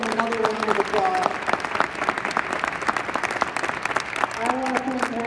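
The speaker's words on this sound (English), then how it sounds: "Let's give them another round of applause." Applause from the audience at a regional math teachers' conference opening event, steady and fairly loud clapping throughout, with a brief musical tone rising under it near the start and again near the end.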